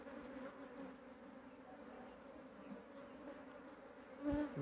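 Honeybee swarm on a mango branch, a steady close buzzing hum of many bees droning continuously and faintly, with no talk.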